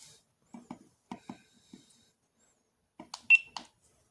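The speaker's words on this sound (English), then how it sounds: "Beep, it stopped recording." A few short, soft electronic beeps from a GoPro camera in a quiet room, a small cluster early on and a brighter, louder tone a few seconds later.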